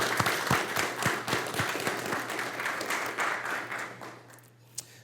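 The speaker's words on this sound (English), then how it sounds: "Join me in giving these fine graduates a round of applause." Audience applause for military graduates at a Sergeants Major Course graduation ceremony, dense sustained clapping from a large crowd that fades over about four seconds, ending with a single sharp tap.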